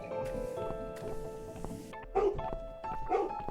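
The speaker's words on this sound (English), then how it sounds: "Your dog is making horrible noise." A dog in The Cat Lady video game gives a few short yips and whimpering barks over a sustained tonal background score, with louder bursts near the end.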